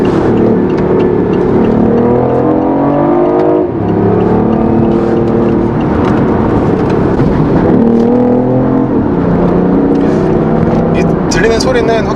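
A BMW i8 coupe drives along, its engine note swelling and easing in a steady, loud sporty hum heard from the cabin, with someone talking over it throughout.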